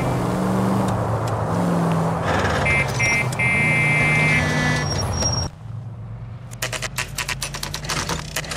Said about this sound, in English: That's the car, Cole, just pulling out of the drive.